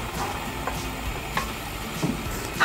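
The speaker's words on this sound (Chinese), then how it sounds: "然后呢就把刚才的葱呢 跟姜稍微爆香啊" Scallion and ginger stir-fry in a little hot oil in a wok, giving a soft continuous sizzle broken by occasional scrapes and clacks of a spatula, with no speech.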